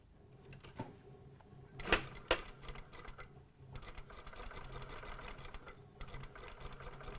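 Sewing machine stitching the elastic hem of a vest, back tacking along the same line, soft rapid mechanical ticking in short runs separated by pauses and a few sharper clicks, close and fairly quiet.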